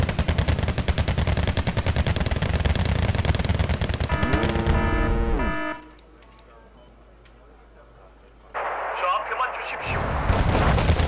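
Grenade launchers fire in the war game Wargame: Red Dragon: a dense run of loud, rapid booming shots with a rising whine drops to near silence, then fresh firing bursts in.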